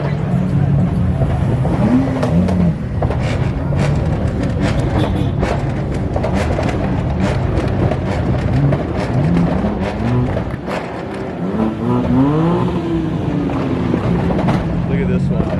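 Cars at a car meet accelerating away: loud engine revs that rise and fall in repeated sweeps, with wind buffeting and people talking over them.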